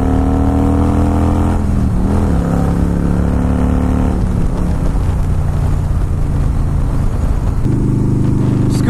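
A Harley-Davidson Fat Boy S motorcycle pulls hard and accelerates, its loud, close engine note rising and falling through gear changes with a constant roar and no voices.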